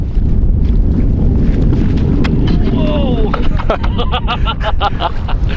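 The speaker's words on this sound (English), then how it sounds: "A little windy out here, a little windy." Steady low wind buffeting across the mic throughout on a frozen lake while ice fishing, with a startled shout and busy voices and scraping sounds near the end.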